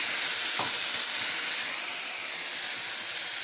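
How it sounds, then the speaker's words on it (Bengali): Spices and tomato sautéing in hot oil for a fish curry, a steady close sizzle with a brief stirring scrape early on, no voices. "আর মশলাটাকে এখন সাঁতলিয়ে নেব।"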